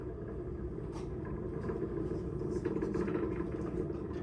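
A distant, steady low roar and rumble from a SpaceX Falcon 9 rocket launch with crew aboard, continuous and broadband, heard faintly from far away.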